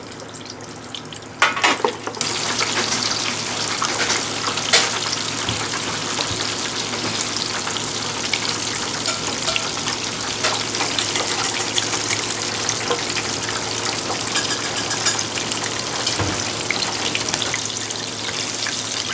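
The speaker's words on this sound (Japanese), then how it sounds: "じゃあエビ揚げてきますね。" Soft shell shrimp deep-frying in hot oil for a shrimp cream mixed noodle dish, a steady dense sizzle that holds loud and close throughout, with a few sharp clatters near the start.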